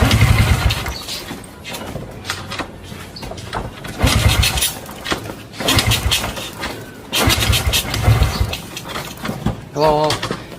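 Kick-start attempts on a motorcycle with a loosely tuned open carburetor: repeated bursts of engine cranking that sputter briefly and die without catching, separated by pauses, with someone talking in between.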